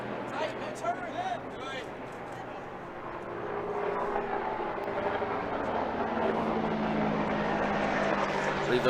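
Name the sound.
Apache helicopters flying overhead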